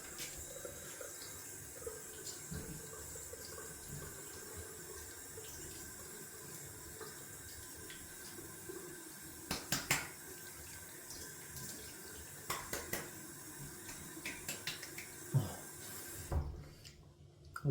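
Cold water runs steadily from a tap into a sink during a wet shave. The flow is faint and continuous, broken now and then by soft clinks and splashes.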